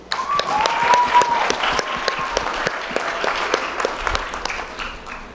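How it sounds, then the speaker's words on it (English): An eighth-grade graduation audience claps for a student, brisk applause with distinct sharp individual claps standing out over the steady patter, swelling early and holding fairly even. "Give a round of applause to Rihanna Hassan."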